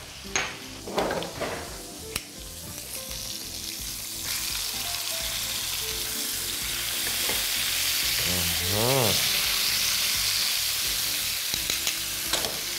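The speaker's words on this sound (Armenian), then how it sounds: "շրջենք և տապակենք նաև մյուս կողմը" Pork pieces for a pork-neck stew are turned and fried on their second side: a loud, continuous sizzle broken by the scrape and clink of a utensil against the pan, with a few sharp knocks near the start.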